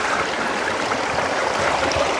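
Seneca Creek rushes in a steady, close, full-bodied wash of flowing water, constant and unbroken with no voices, heard from a campsite along the trail.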